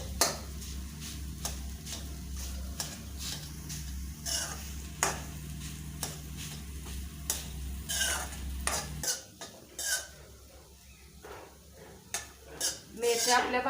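Roasted fenugreek seeds stirred in ghee in a pan, a spoon scraping and clinking against the metal in irregular strokes over a soft sizzle, fairly close and moderately loud.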